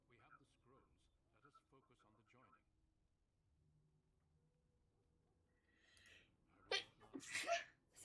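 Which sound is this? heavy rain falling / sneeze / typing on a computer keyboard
sneeze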